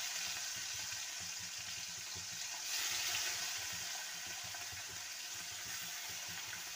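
Small mourola fish, rubbed with salt and turmeric, fry in hot oil with a steady, dense close sizzle that swells briefly midway and then settles into a continuous crackling hiss.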